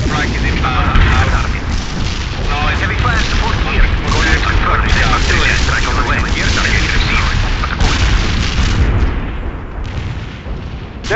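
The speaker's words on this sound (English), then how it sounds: "Anti-tank strike is inbound." Anti-tank strike explosions thunder in the World in Conflict: Soviet Assault video game, dense overlapping booms and crackling blasts rolling on loudly without pause while voices talk over the battle.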